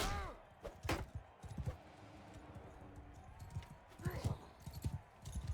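Horse hooves clip-clop in a medieval battle in the video game Bannerlord, a run of sharp, uneven hoof strikes close by, in bursts with brief gaps, mixed with faint clanks and a little background noise.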